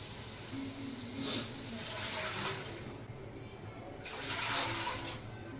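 Water poured into a cooking pot for a mushroom paneer vegetable basmati rice biryani, a steady hissing pour with two louder surges, fairly close and heard alone.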